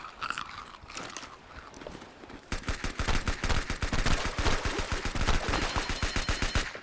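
Rapid, steady gunfire from a gun in Ark Ascended rattles for several seconds after a quieter, muffled start, each shot crisp and close in a dense, evenly spaced stream.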